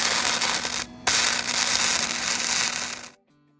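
An arc welder crackles and sputters close by while joining a small steel piece to the bucket of a rusty old farm tractor, with a brief break partway through before the arc cuts off near the end.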